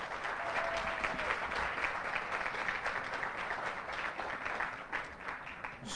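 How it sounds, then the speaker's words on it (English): Applause from an audience at a guide dog and service dog graduation ceremony, steady dense clapping that carries on at an even level for the whole stretch with no break. "How about a big round of applause for everybody here?"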